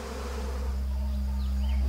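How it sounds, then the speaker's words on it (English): Steady buzzing of hornets hunting around a beehive, with a low drone, a constant hum of wings close by with no voices. "The hornets cruise around the hive, hoping to strike unsuspecting bees."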